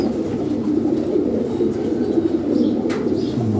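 Pigeons in a loft gallery, champion bloodline birds, cooing steadily up close with a continuous low murmur and a brief burst of wing flapping near the end, no talking.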